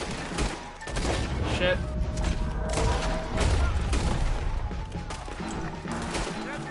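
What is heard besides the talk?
gunfire in Red Dead Redemption II, video game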